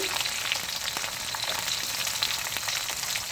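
Curry leaves, green chilies and garlic cloves crackle and sizzle briskly in hot oil in a pan while ivy gourd poriyal is being made, with a dense, continuous spatter and no talking.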